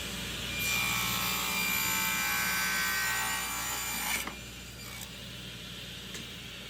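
A handsaw cuts through a wood board to make pieces for a table-leg jig, giving a steady, close, loud rasping stroke that runs for several seconds and then stops, followed by a couple of faint knocks.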